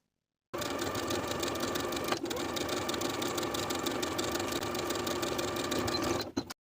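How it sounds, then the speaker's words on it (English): A sewing machine runs at a steady pace edge stitching the folded sleeves of a women's top made from fabric scraps, a continuous close mechanical whirr that stops abruptly at the end. "Edge stitch along the upper inner fold all the way around for both sleeves."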